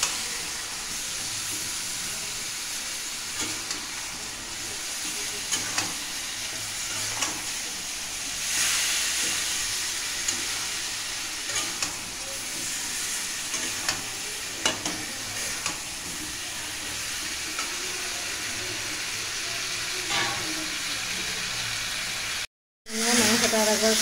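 Chili and spices fry in oil in a pan while being stirred, producing a continuous loud sizzle with repeated scraping strokes close by, a brief dropout near the end.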